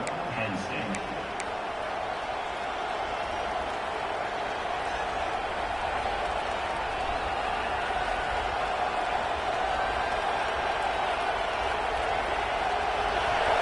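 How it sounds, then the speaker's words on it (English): At a Penn State football game, a packed stadium crowd keeps up a loud, steady roar of cheering for the whole stretch, with a commentator talking over it. "They challenge this crowd to bring the energy, and I'd say they're doing that."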